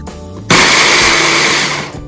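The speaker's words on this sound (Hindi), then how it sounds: "तो अब हम इसको मिक्सी में डाल के तो इसका एक पाउडर सा बना लेंगे" A kitchen mixer grinder grinds roasted spices into powder for vada pav, starting abruptly with a loud, high whirring roar that holds steady for over a second before cutting off.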